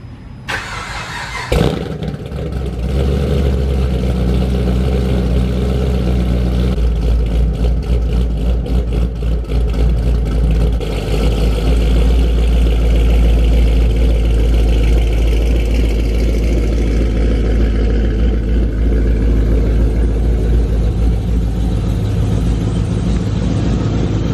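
Chevrolet Camaro ZL1 V8 cranks briefly, fires up with a sharp bark, then settles into a deep, steady, loud rumbling idle that carries on alone for some twenty seconds.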